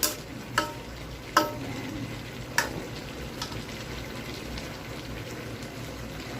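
Pakbet vegetables with Japanese beans cook uncovered in a pan, a soft steady bubbling sizzle with a few sharp clinks of a utensil against the pan near the start.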